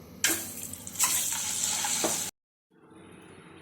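Eggs drop into hot oil with turmeric in a pan and sizzle loudly for about two seconds, then the sound cuts out briefly before a softer, steady frying hiss returns.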